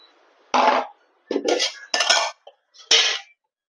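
Two cooking pots set down one after another in a home kitchen while goat head curry is being made, giving four sharp metallic clanks and clinks spaced across a few seconds, close and fairly loud with no talking.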